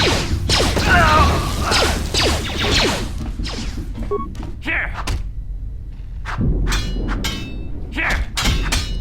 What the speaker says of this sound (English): Gonna do a grenade here.